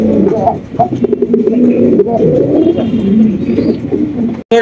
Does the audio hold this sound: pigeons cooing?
yes